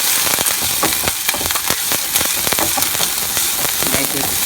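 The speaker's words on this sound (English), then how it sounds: "We are going to let it fry nicely." Mixed vegetables for masala Maggi fry loudly in a hot pan, a close, dense sizzle crackling with rapid pops throughout.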